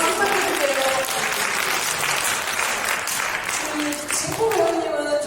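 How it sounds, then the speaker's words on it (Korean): Audience applause at a sign-language film festival Q&A, a steady, dense wash of clapping from a seated crowd lasting several seconds, with faint voices mixed in. "박수 부탁드릴게요."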